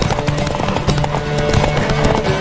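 A horse gallops in The Witcher 3, its hooves pounding in a fast, even rhythm that stays up close and loud, mixed with game music and a brief neigh.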